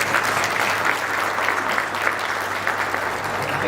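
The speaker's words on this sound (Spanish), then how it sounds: "Un aplauso." Sustained applause from a conference audience, thick and even clapping at moderate loudness that continues steadily with no speech over it.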